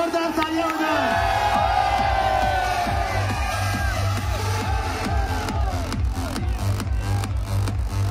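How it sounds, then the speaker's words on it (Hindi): A large crowd at a live fan meet-up in Behror cheers and shouts continuously, a dense roar of voices with whoops rising over a steady low rumble, loud and sustained throughout. "तालियां भी ऐसे ही भारी भरकम होनी चाहिए, जोरदार तालियां हो जाए"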